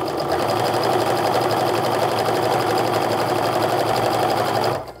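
A sewing machine chain-pieces charm pack squares with a steady, continuous whirring stitch at close range that runs loud and unbroken for almost five seconds before stopping abruptly.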